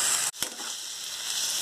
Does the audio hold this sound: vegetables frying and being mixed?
yes